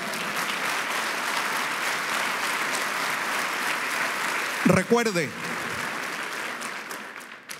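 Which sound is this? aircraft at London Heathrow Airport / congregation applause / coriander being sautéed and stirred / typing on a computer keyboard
congregation applause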